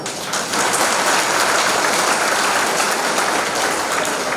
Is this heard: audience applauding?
yes